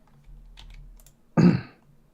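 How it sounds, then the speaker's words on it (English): Typing on a computer keyboard: a few soft, quiet clicks followed by one louder, sharper clack, close and alone with no voices. "Keep typing."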